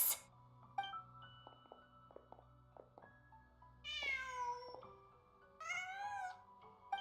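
A cat in the video game Genshin Impact lets out two drawn-out meows, the second a few beats after the first, over a quiet in-game ambience with soft chimes and clicks.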